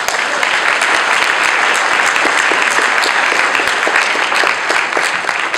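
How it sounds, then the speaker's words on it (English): Steady, dense applause from a crowd, loud and sustained throughout with many hands clapping at once. "Let's give her a round of applause."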